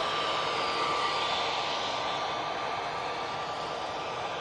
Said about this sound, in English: Easyjet will be off to Geneva using their 320 Neo for this.